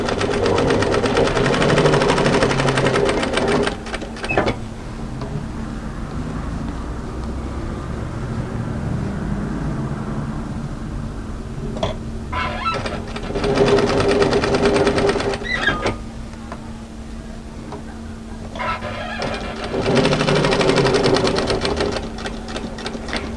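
A sewing machine stitches a knit dolman top along the edge to a corner in three loud, steady bursts, with pauses between them and a constant hum underneath.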